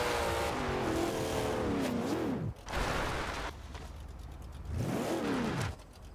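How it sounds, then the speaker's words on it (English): A muscle car engine in the video game Forza Horizon 2 hums and revs at idle, rising and falling in pitch in a few swells with a short gap, steady and close, no talking. "You hear that engine idle?"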